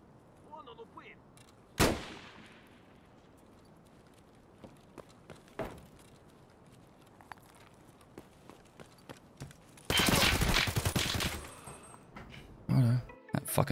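Gunfire in a night raid of a hardcore shooter video game, a sharp distant shot followed by another, then a long dense burst of loud rapid fire near the end, with scattered thuds between.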